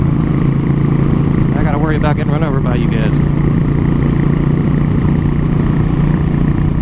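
A motorcycle runs loud and continuous with a steady engine drone and wind buffeting the whole time, while a rider briefly talks over the noise.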